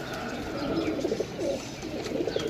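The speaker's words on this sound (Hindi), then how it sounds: "कबूतर देसी कबूतर" Desi pigeons cooing softly in low, rolling bursts close by, overlapping one another against a steady background hiss.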